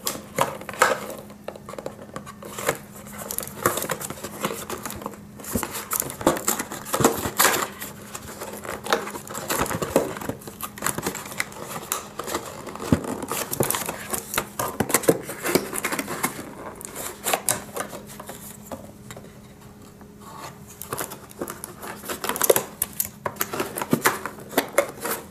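Webcam box packaging being cut open by hand, a busy series of close snips, scrapes and plastic rustles in irregular bursts, with no talking.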